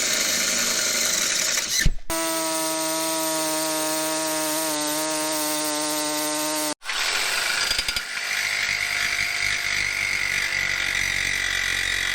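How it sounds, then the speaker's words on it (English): A loud power tool whines with a steady high-pitched tone for several seconds between bursts of grinding, rasping cutting noise, close by and continuous. "bust out some power tools that'll destroy some shit"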